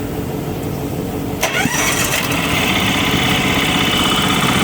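A small single-cylinder two-stroke engine on a self-propelled round baler cranks and catches after a brief whir, then settles into a steady, loud buzzing idle that continues to the end.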